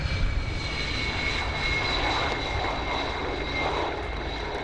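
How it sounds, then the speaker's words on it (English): Ukrainian Air Force Sukhoi Su-27 Flanker comes in to land during an airshow display at RIAT 2017, a distant steady jet engine roar with high whining tones holding throughout. "brings this aircraft into land"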